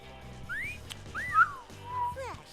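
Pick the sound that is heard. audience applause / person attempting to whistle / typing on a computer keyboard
person attempting to whistle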